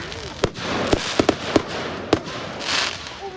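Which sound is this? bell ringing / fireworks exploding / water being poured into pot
fireworks exploding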